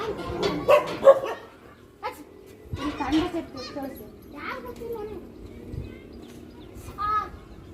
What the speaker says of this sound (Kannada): ನಾಯಿ ಬೆನ್ನ ಹತ್ತೈತಿ ಹಚೆ